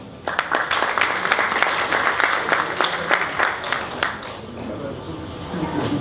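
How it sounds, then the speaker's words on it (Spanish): Warm applause from a Spanish-speaking audience welcomes a speaker at a talk on value chains and small businesses, with close, distinct claps that thin out and fade toward the end. "Lo recibimos con un caluroso aplauso."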